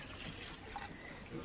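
Water poured from a container into a color-changing confetti cup, a steady soft liquid splash and trickle running throughout at close range.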